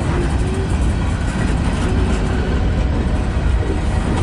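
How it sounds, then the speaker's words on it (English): A Norfolk Southern freight train rolling slowly past nearby in Fostoria, Ohio: a loud, steady rumble of wheels and rail noise with a low engine drone, continuous throughout with no talk. "This train's going slow."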